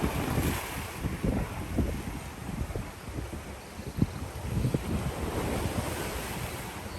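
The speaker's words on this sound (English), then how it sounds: "I hear the ocean." Ocean waves rolling in at the La Romana Hilton resort in the Dominican Republic, a constant wash of surf with breaking swells and wind buffeting the microphone, no voices.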